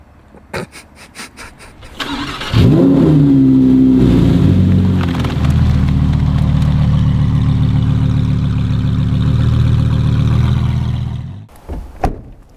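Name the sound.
Lamborghini Huracan GT3 engine revving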